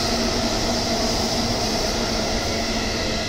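A JR commuter rapid train passing through Maihama station, a steady loud broadband rumble of wheels and carriages lasting throughout, with faint tonal hum and no voices.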